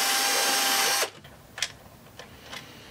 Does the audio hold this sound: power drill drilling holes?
yes